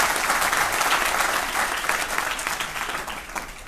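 An audience at a state-level award ceremony for student competition winners gives the teachers a sustained round of applause, dense clapping that stays loud and gradually thins toward the end.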